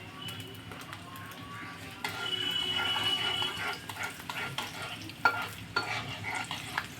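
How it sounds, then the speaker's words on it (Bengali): Spice tempering with fried onions for kala bhuna sizzles quietly in a pan, a soft continuous frying crackle with stirring scrapes and a few clicks, heard alone without any speech. "এই অবস্থায় আমি ফোড়নটা তৈরি করে নিই।"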